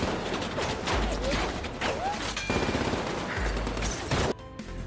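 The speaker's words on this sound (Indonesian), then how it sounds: "mendapat sambutan tembakan dari anak buah Shaw yang berada di dalam gedung" Rapid bursts of gunfire crackle through a loud, dense action scene from a Fast & Furious film, gangsters firing from inside a building, with sharp shots, whizzing sounds and a sudden cut near the end.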